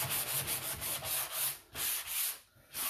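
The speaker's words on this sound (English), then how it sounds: "So I'm going to take my sanding sponge." Rhythmic back-and-forth rubbing of a sanding sponge on a painted vintage wooden buffet, a close, raspy scratch repeated in quick strokes with short pauses.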